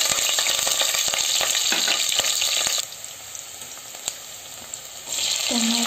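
Spices and onion sizzling in oil and ghee in a pressure cooker, a loud close crackling fry that quiets briefly in the middle before surging again, with scattered stirring knocks.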